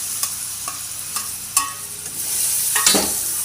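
Turmeric being stirred into a pan of hot oil for a ripe banana dish, a few sharp scraping strokes of a spoon against the pan, followed by a rising low sizzle.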